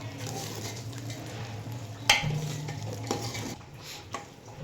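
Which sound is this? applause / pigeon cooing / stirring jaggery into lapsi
stirring jaggery into lapsi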